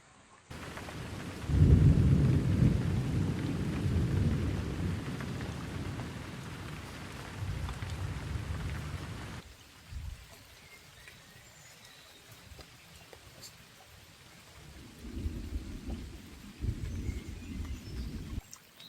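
Rain falls steadily during a thunderstorm on a river in Bavaria, with deep rumbles of thunder swelling and fading, then the rain grows quieter before another low rumble returns.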